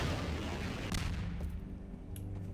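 A rocket fired at Nemesis in Garry's Mod, a dense burst of blasts and gunfire-like booms packed across the short span, loud and continuous with no talking over it.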